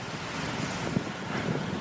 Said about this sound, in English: I anticipate that this may be a very windy and noisy narration